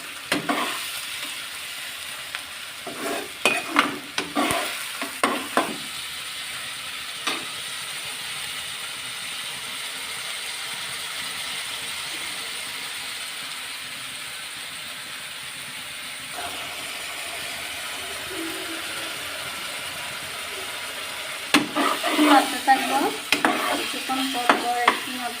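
Onion, garlic, ginger and whole spices frying and being stirred in a pan for a chicken curry: a steady sizzle throughout, with bursts of scraping utensil strokes near the start and again toward the end.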